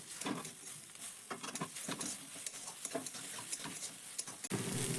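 A spoon stirs and mixes egg into a breakfast filling, giving soft, irregular scraping and pattering taps close by, quiet and without talk.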